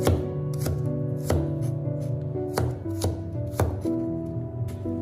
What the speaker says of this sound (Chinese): 先把大蒜切成薄片